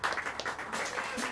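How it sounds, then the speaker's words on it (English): Jazz club audience at Smalls applauding the Steve Nelson Quartet's musicians, a short burst of dense clapping with a voice talking over it. "A round of applause for him."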